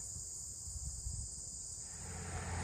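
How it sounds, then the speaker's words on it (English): Crickets chirp outdoors beside a summer barn and field: a steady high-pitched trill that carries throughout, faint and distant, with low rustling wind underneath. "Can you hear the crickets?"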